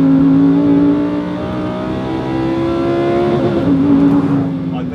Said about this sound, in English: it has a V10 engine that sounds like this.